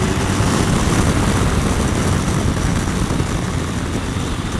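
Honda VFR1200X CrossTourer V4 motorcycle engine braking on the road, a steady loud low drone with dense rumble and broadband wind roar throughout, no voices.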